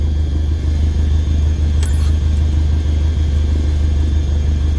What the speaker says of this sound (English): Go ahead and taxi into position.